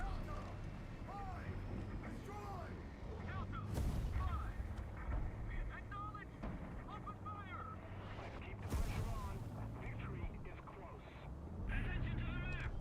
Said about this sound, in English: I'm gonna lay an artillery